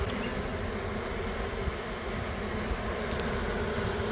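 A honeybee swarm collected in a brood frame trap hung about 30 feet up gives a steady, dense buzzing hum that carries evenly throughout, with no voices.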